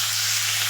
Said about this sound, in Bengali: তেল দিয়ে দিলাম, গোটা গরম মশলা, তেজপাতা ফোড়ন দিলাম